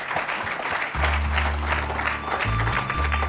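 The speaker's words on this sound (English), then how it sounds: "Give yourselves a round of applause." A short, moderately loud burst of clapping from an audience at the end of a rugby podcast, running throughout with a low musical tone underneath.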